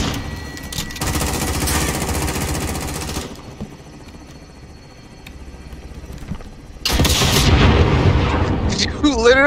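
A rocket launcher explosion in Call of Duty Warzone, loud booming blasts with dense rumbling gunfire, a quieter lull in the middle, then another heavy burst near the end, with people talking over the action.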